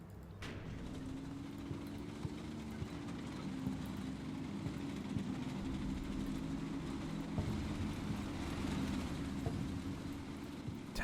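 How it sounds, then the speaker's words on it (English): Tanks rolling forward in the war game Combat Mission, a steady low engine rumble and track clatter that holds level throughout, moderately loud with no pauses. "Tanks rolling in, okay?"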